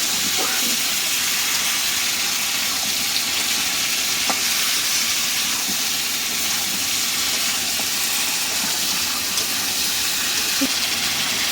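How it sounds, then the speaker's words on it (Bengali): Spicy country-chicken curry with raw potatoes sautéing in a pan: a constant crackling sizzle with small stirring clicks and pops scattered throughout, close and fairly loud. "কাঁচা আলু দিয়ে এবার কষিয়ে নেবো ভালো করে সুন্দর করে"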